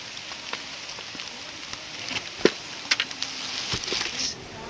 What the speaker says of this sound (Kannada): ಸಿಕ್ಕಾಪಟ್ಟೆ ಮಳೆಯಲ್ಲಿ